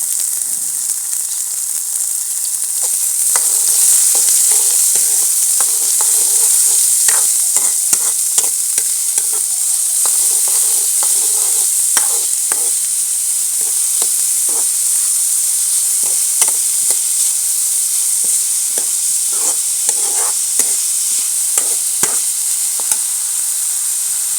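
Finely chopped onion and green chili frying in a pan with cumin for village-style Punjabi chana masala chaat, a steady bright sizzle and hiss with repeated scraping stirs, close up and uninterrupted by talk.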